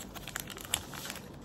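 Small plastic packets crinkle as they are handled up close, a run of quick, light rustles and sharp crackles with a couple of louder snaps, and no speech.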